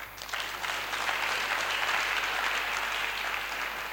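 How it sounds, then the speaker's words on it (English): Sustained applause from a crowd at a training graduation ceremony, steady and full throughout, with no talking over it. "Give me a round of applause."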